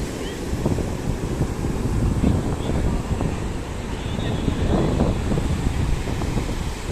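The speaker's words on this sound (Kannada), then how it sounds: "ಈ ಸಮುದ್ರದ ಸೌಂಡ್ ಈ ರೇಂಜಿಗೆ ಐತಂದ್ರೆ ನಾ ಮಾತಾಡಿದ ನಿಮಗೆ ಕೇಳ್ತೈತೋ ಇಲ್ಲೋ ಗೊತ್ತಿಲ್ಲ ಅದ್ರಾಗ ವಿಂಡ್ ನಾಯ್ಸ್ನು ಭಾಳ ಜೋರ್ ಐತಿ" Sea waves wash onto a beach under heavy, constant wind buffeting the microphone, a loud, unbroken roar with no clear pauses.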